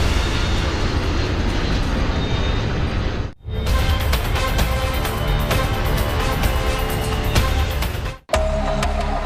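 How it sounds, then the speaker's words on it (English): A Lockheed L-1011 jet airliner flies over the Florida Everglades with a nose gear problem, a loud steady roar filling the cabin, broken by two brief cuts to silence. "A jet is flying over the Florida Everglades while the crew is trying to fix a problem with the nose gear."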